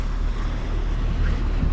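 Three-foot waves on Lake Michigan slap and wash against a cruising boat, a loud continuous churning rush mixed with heavy wind noise on the microphone.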